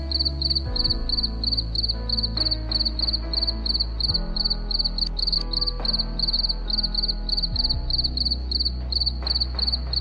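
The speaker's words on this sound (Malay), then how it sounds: "cengkerik, sejenis serangga di hutan" Crickets chirping on a cricket farm, a dense, steady high-pitched trill from many insects, with a low droning hum and faint clicks underneath throughout.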